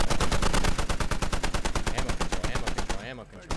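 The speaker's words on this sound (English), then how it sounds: "Dang, that Humvee's unloading on a couple people up there." A Humvee-mounted machine gun in the Squad video game fires a rapid, evenly spaced stream of loud shots for about three seconds, then stops, leaving a fading echo.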